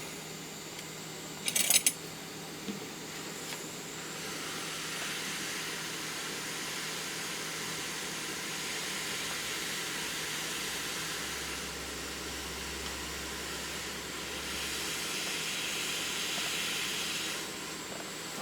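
A hot air rework blower set to low airflow and low temperature, used to repair a Hyundai remote control, gives a soft, steady hiss throughout, with a brief clatter near the start and no talk.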